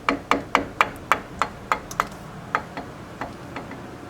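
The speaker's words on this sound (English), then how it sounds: "With my nylon faced hammer, get her nice and aligned" A nylon-faced hammer delivers a run of about a dozen light, evenly spaced taps to align brake calipers and rotors on a 4Runner, each tap crisp and close, growing softer and sparser toward the end.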